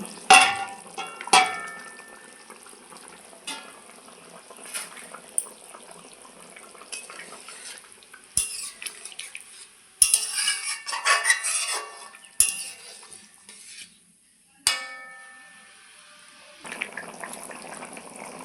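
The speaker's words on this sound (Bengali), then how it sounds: "এখন আমি ভেজে রাখা ডিমগুলো দিয়ে দিব।" Fried eggs dropped into a simmering potato curry in a pan, heard as scattered clinks of a utensil on the pan, watery bubbling and stirring scrapes at close range, with short bright knocks at intervals and no talk.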